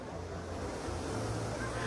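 Ocean surf rolling onto the shore at Waikiki, a steady broadband wash with wind buffeting the microphone, continuous and fairly close for a couple of seconds with no talk.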